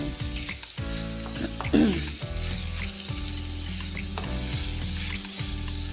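Pickled bamboo shoots stir-fry in curry paste oil, a continuous loud sizzle broken by scraping strokes of a spatula against the pan, with no voices.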